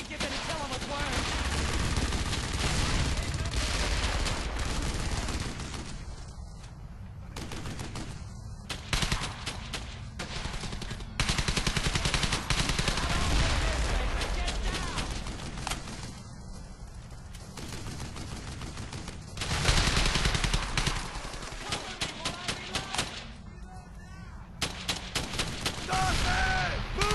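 Dense machine gun fire in the World War II shooter Brothers in Arms, a trench assault: sustained loud bursts of automatic gunfire with booming impacts, repeated in waves with brief pauses, rapid clattering volleys near the end.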